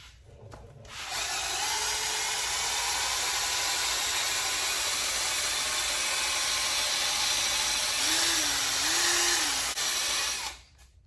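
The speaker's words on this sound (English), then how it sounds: "I'm putting it on the drill, and let's get to it." A power drill polishes a car headlight during a restoration, a loud steady whine that starts abruptly, runs unbroken for about nine seconds with slight pitch wobbles near the end, then cuts off.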